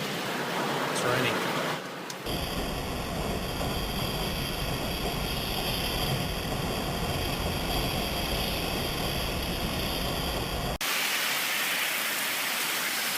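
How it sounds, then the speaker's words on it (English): Steady heavy rain, a loud, dense hiss pouring down continuously for several seconds close by, starting and stopping abruptly. "It's raining."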